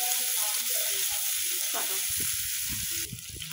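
Hot oil sizzles and crackles steadily in a kadai on the stove as cooking for a fish curry with mixed vegetables begins, a close, even frying hiss with a few faint clinks.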